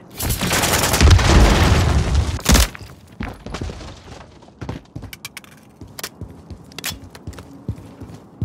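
A grenade explosion in a video game shooter erupts loudly near the start as a long roaring blast, followed by a sharp second boom, then scattered thuds, footsteps and distant shots fade into quieter ambience.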